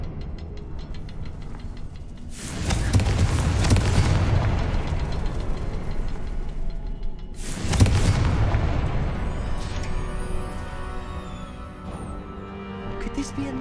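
Two heavy blasts from the Confringo fire spell in Hogwarts Legacy, each a loud booming burst with a rumbling tail, the second following about five seconds after the first.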